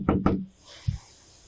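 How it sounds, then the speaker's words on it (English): A police officer raps twice on a door at a wellness check, two sharp, close knocks in quick succession, then a single softer thud a moment later, with faint room hiss in between. "The officer knocked on the door as per protocol."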